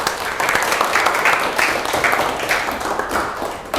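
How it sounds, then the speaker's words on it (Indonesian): A classroom of students claps together in a steady burst of applause, moderately loud and even, continuing for several seconds with no talk over it. "tepuk tangan untuk kita semuanya"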